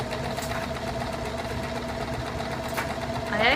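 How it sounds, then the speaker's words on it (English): A household sewing machine, freshly rethreaded after long disuse, runs with a steady mechanical whir and rapid needle knocking, fairly close and continuous, with a brief sharper rise near the end. "I actually ended up having to re-thread my sewing machine because I hadn't used it in so long."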